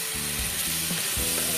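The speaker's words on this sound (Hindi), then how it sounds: "और इसे भी हम 2 से 3 मिनट तक भून लेंगे।" Tomato puree with coriander and red chili powder frying in a pan for rajma, a steady close sizzle with occasional stirring scrapes.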